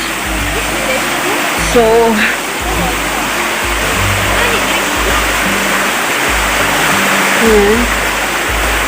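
Stream water in Bulak, Matag-ob, Leyte rushes toward a secret mini waterfall, a loud close steady hiss of flowing water, with a voice talking briefly over it.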